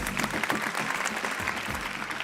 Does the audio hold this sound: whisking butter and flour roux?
no